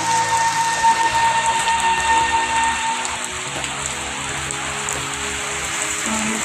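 Heavy rain from a kalbaishakhi storm pours onto surfaces as a loud, constant roar, with faint tonal hums beneath and no talking.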